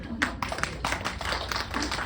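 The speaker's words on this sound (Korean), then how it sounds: "정말 박수 한번 쳐주세요" A small seminar audience at a skin and gut health talk gives a brief, scattered round of hand claps, fairly faint and uneven over about two seconds.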